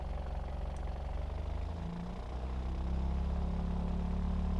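A Pontiac Iron Duke engine runs steadily on a test stand, a loud continuous drone with a brief dip in tone midway before settling at a steady speed.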